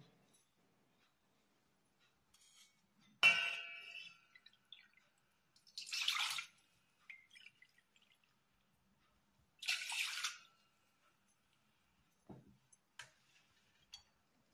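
Water is poured into a bowl in two separate short splashing bursts for flour dough in a quiet home kitchen, with only faint clinks in between.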